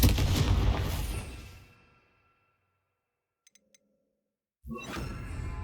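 Confringo fire blast spell in the Hogwarts Legacy video game: a loud roaring burst that fades to silence, a few tiny clicks, then another abrupt heavy blast kicks in.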